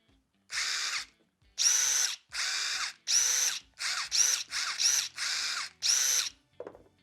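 A counterfeit DeWalt cordless power drill whirs in a series of short bursts, about ten separate runs with brief silent gaps between them, close and clear.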